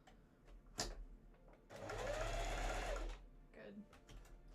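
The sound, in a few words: sewing machine stitching cosplay shirt fabric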